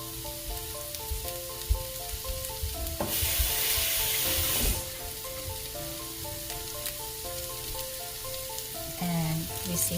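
A creamy chicken enchilada sauce simmers and sizzles steadily with coriander leaves and sprigs stirred in, a constant close frying hiss with a louder burst of sizzle partway through.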